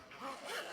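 A zipper on a homemade cotton project bag with thick fusible batting is pulled along the top opening in one quick, close, soft rasping stroke.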